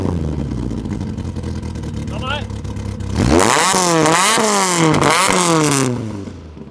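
A Ford Escort RS 2000 rally car engine idles with a low rumble, then revs hard several times close to the exhaust, rising and falling in pitch, with faint talk underneath.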